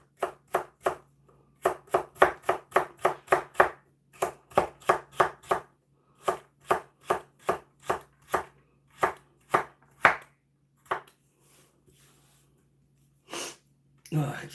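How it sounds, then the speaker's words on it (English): Knife chopping vegetables for a steak and Stilton pie, a long run of crisp, evenly spaced cuts on a board close by, pausing briefly before a final few strokes. "I'm just going to start cutting my vegetables"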